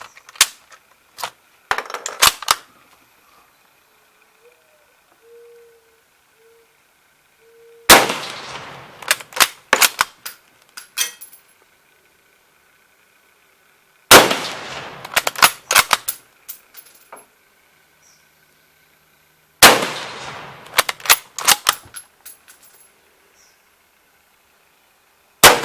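Four separate groups of sharp, loud gunshots from a Mauser Kar 98K bolt-action rifle, each group followed by quick clattering clicks, spaced several seconds apart with quiet gaps between them.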